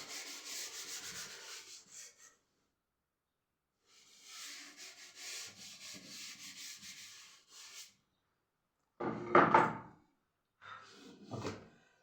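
An eraser rubs a diagram off a classroom board in several bursts of dry scrubbing, separated by short pauses, close and fairly quiet.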